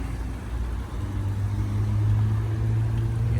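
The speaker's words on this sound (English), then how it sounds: "I can still hear the river, but the traffic's much louder." Road traffic rumbles through Front Royal, Virginia, a continuous low engine drone that swells slightly as a vehicle draws nearer, steady and fairly loud with no voices.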